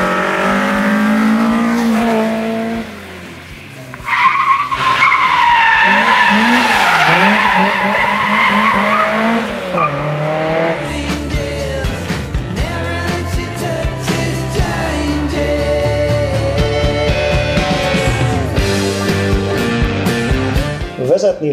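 A tuned Lada race car roars close by, its engine revving hard while tires squeal and skid in long sweeping slides, loud and continuous with a brief dip early on.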